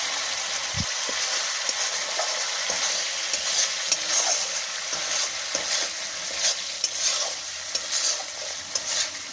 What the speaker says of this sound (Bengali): মশলা যাতে পুড়ে না যায় সেই জন্যে আমি মশলাটাকে ক্রমাগত নাড়িয়ে যাব এবং একটু জল দিয়ে সেটাকে কষতে থাকবো যাতে নিচে না লেগে যায়।